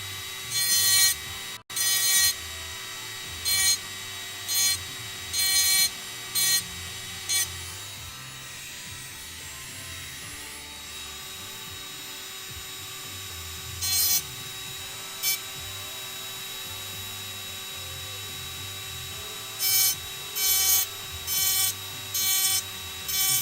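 A rotary engraving tool buzzes against a glass coffee jar as uneven patches are tidied up, a steady whine with repeated short scratchy grinding bursts in rhythmic strokes, close and fairly loud.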